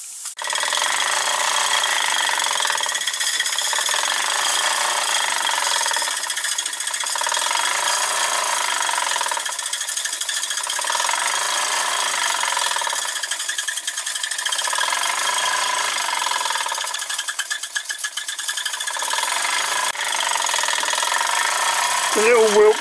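A small Wilkinson model steam engine drives a model nodding-donkey oil field pump through a flat belt, giving a steady mechanical chuffing and rattling with regular rhythmic surges every few seconds, running continuously without talk.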